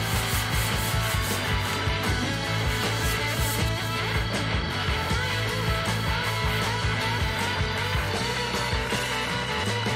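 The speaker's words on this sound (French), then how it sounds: "Un petit coup de papier abrasif, un petit ponçage léger, juste pour bien que ça accroche" Abrasive paper is rubbed lightly by hand over the body parts of a 4x4 Renault R2087 Goélette truck, including the cab, wings, doors and grille, before painting. The scraping is steady and close, continuing without a break for the whole stretch.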